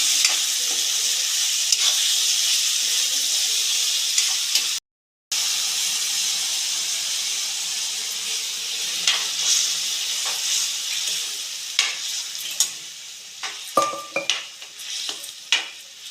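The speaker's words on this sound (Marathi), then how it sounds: "चांगलं मिक्स करून घ्यायचं आणि मंदाचेवर ठेवून द्यायचं शिजेपर्यंत" Wet cashew curry, Konkani style, sizzles steadily in a pan while a spoon stirs and scrapes through it, with a constant hiss of frying and a brief gap midway.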